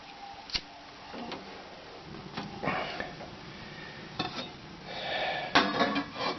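A pot of maple sap is set on a camp burner, heard as a few scattered metallic clanks and taps with some faint rustling between them, close and fairly quiet.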